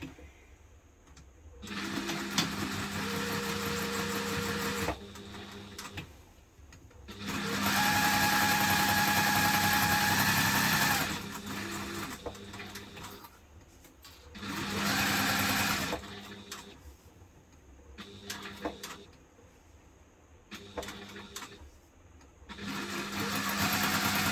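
A sewing machine stitches fabric pieces of a hipster bag together, running in close, steady mechanical bursts of varying length separated by short pauses, with no voices.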